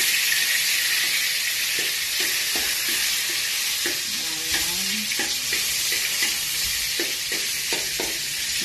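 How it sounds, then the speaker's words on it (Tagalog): Minced garlic sizzling in a small amount of cooking oil for a fish sarciado, a continuous bright crackle and hiss with occasional stirring scrapes of a utensil in the pan, fairly loud and near with no talk. "Gigisa ko na yung bawang."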